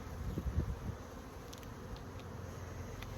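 Bees at an open hive during an inspection make a low, steady buzzing hum, with a few soft knocks close by at the start.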